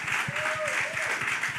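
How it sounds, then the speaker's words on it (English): An audience at a church community outreach session claps in a short burst of steady applause, with rhythmic handclaps heard under a voice speaking over it. "Y'all clap it up."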